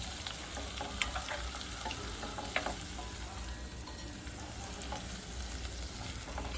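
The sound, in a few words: masala for stuffed brinjal curry sautéing in a pan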